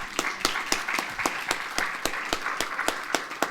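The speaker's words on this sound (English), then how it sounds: "Please clap your hands for Ms." Audience clapping at a construction-industry women's event, with a steady rhythm of distinct hand claps close by, sounding like a small group or one pair of hands rather than a full crowd.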